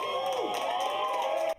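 Crowd cheering and clapping at a legal cannabis dispensary in New York, a steady wash of voices and scattered claps that continues at an even level, then cuts off abruptly.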